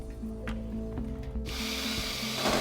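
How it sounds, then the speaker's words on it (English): A power drill bores holes through a house wall to bring a grounding cable indoors, a steady mechanical whir with repeated rhythmic pulses that grows harsher and brighter partway through. "We have to bring him inside of the house, so we have to drill some holes."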